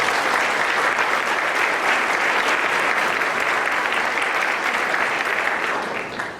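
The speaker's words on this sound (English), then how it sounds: "Give yourself a round of applause." Audience applause fills a room at a 25th-anniversary event, a dense, sustained clapping from a large crowd that stays loud and even before easing off at the end.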